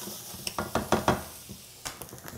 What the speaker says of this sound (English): our corn and onions are cooking up really good